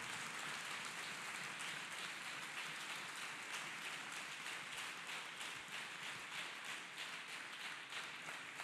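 A church congregation claps hands together during a worship and healing service, producing a steady, dense patter of clapping that continues throughout at a fairly low, distant level, with no voices over it.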